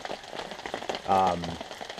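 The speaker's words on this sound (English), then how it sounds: "it is raining really hard" Heavy rain pounds steadily on a bivouac shelter, a dense close hiss of drops, with a brief voice heard partway through.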